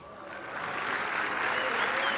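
A padel crowd at a center-court match bursts into applause and cheering, a loud, close wash of clapping that swells slightly and holds steady throughout.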